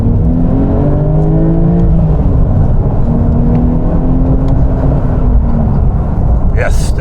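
Engine of a 2023 Porsche 911 Sport Classic pulling hard through the gears, a loud steady rumble with rising and falling tones from inside the car as each gear is taken, with a voice talking over it.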